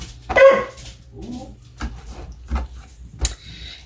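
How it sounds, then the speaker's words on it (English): Small dogs give a few short barks and whimpers in a home kitchen, spaced out with quiet gaps between the sharp yips. "these little dogs"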